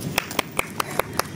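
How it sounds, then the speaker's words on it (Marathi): Hands clapping in a slow, even rhythm, six or seven crisp separate claps close by, against a faint background hiss. "रस्ता विसरला म्हणून टाळ्या होत्या।"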